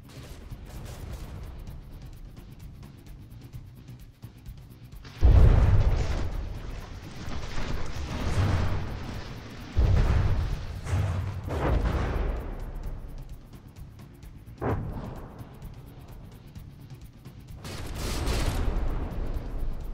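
High explosive shells slam into warships during a naval video game battle, heavy booming impacts and rumbling blasts arriving in irregular bursts, loud and close, with no talk.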